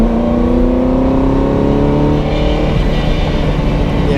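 A Ferrari 308 engine runs at steady revs close by, a continuous harmonic drone with a faint metallic rattle from a loose front manifold heat shield, no voices.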